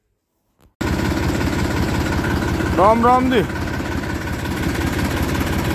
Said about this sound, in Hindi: चलते हैं ट्रैक्टर लेके